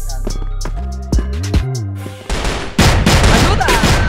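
Gunfire in a Counter-Strike match, with sharp bursts of shots coming in clusters, loud and close, broken up by a few brief tonal game sounds.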